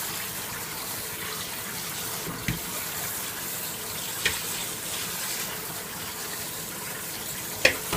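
Steady running water from a kitchen sink sprayer rinses chitterlings, a continuous broad hiss with a few brief clatters near the end.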